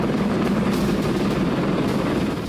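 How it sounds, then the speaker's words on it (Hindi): A Russian military helicopter in the Ukraine war flies past, making a steady, dense rotor and engine roar with faint rhythmic beating. The sound is fairly close and continuous, with no talk. "इन हेलीकॉप्टर के जरिए रूसी सेना उन जगहों पर पहुंच रही है"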